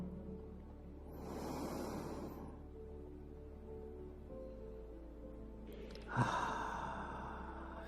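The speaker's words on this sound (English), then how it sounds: "another inhale. And another inhale." A long, deep inhaling breath taken during a guided meditation, followed by a second sharper intake of air, close and soft over a faint steady background hum, with no talking.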